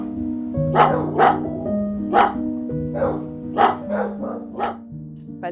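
Dogs at an SPA animal shelter in the Dauphiné bark repeatedly, about seven sharp, fairly close bursts in an irregular rhythm over a steady low hum, with no talk.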